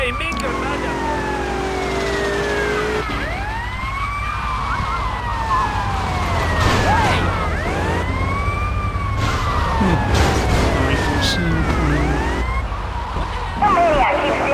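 A wailing ambulance siren in a video game, rising and falling in repeated sweeps close by, with engine and traffic noise beneath and people talking over it.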